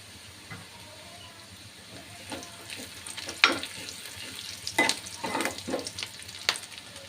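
Onions frying in a pan, a soft constant sizzle broken by a series of louder scraping stirs and clinks of a spatula against the metal, growing busier toward the end.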